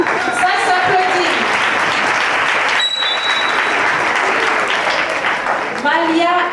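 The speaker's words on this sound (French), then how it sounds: "Ah, ça s'applaudit." An audience applauds after a young child's song at a music camp, a steady patter of clapping that carries throughout. Adults speak briefly near the start and again at the end.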